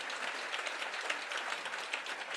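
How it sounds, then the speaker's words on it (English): Audience applause for Rayne, the speaker at an event, a dense, even round of clapping that fills the whole stretch without talk. "Shall we give Rayne yet another round of applause?"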